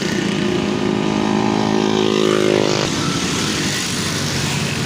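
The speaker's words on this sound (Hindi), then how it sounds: "बाइक ही बाइक गुजर रही हैं।" Stream of motorbikes passing continuously on a road at a fair racing point, a loud, dense engine drone with one bike's rising whine swelling and cutting off partway through.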